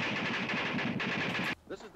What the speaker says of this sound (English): The crack of bullets passing overhead.